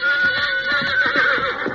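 Horse neighing loudly and close, a drawn-out shrill whinny with wavering pitch, alone with no talk.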